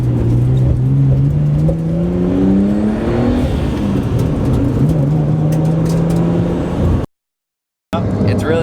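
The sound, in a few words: car driving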